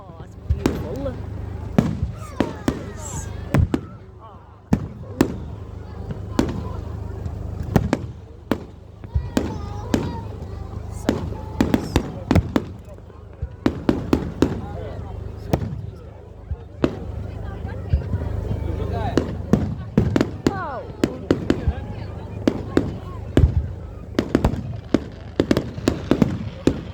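Bonfire night fireworks burst again and again, sharp bangs and crackles scattered irregularly through the whole stretch, some close and loud, others farther off, with voices of onlookers talking and exclaiming between explosions.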